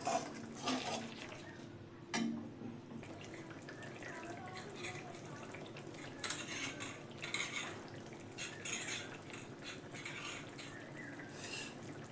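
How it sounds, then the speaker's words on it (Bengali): Sour curd is stirred and fried in a pan over a low gas flame while cooking a spicy magur and tengra fish curry with mustard and poppy seeds. A soft, steady sizzle runs throughout, with occasional clinks and scrapes of a utensil. "গ্যাসটা আমি লো করে টক দইটা দিলাম, টক দইটাও একটু কষে নেব।"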